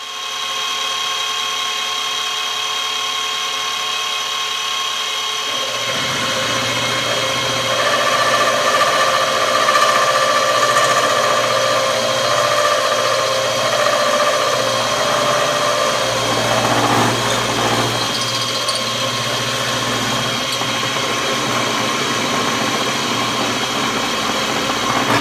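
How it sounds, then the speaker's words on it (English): A mini mill cuts the center boss of a scooter rim held in a fixture, a steady high-pitched machining whine that starts loud around six seconds in and runs continuously with slight shifts in pitch. "I've got her fixtured up here in the mini mill. We're gonna mill this center boss area down here"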